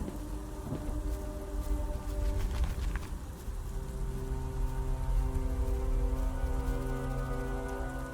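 Steady rain pours in a dark outdoor scene of the Vlad Circus game, a constant wash of drops with a low rumbling ambience underneath and no one speaking.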